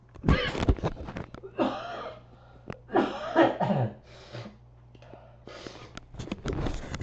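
Several harsh coughs in bursts, some close together with pauses between, a faint low hum throughout and no speech.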